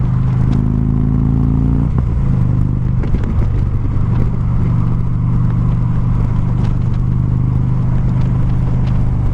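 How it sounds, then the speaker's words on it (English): Dense rumbling roar of wind and engine inside a Schuberth C3 modular motorcycle helmet at around 75–80 mph on a highway, steady and loud throughout with a low engine drone underneath. "So the helmet's pretty quiet. I mean, and a little more just a wind noise because we're up to 75 here, pushing 75, 80."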